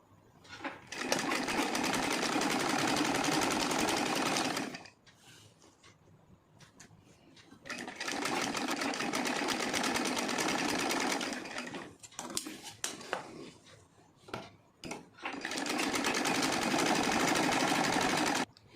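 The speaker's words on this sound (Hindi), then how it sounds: "इसे मैं इसके ऊपर रख कर सिलाई लगाते जाऊँगी।" A sewing machine stitches lace onto old heavy silk saree fabric in three long, loud, steady runs of fast whirring, broken by quiet pauses with small handling clicks.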